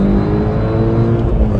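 An Audi Quattro hatchback on a race circuit pulls hard out of a corner in second gear, its engine note rising in a short, loud, close burst with no voices.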